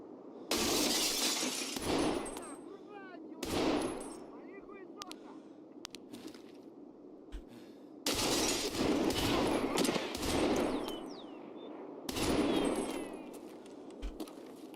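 Sniper gunfire in Escape From Tarkov, heard as several sharp, loud cracks spaced a few seconds apart, each followed by a trailing echo and crunching glassy debris, with quieter gaps between.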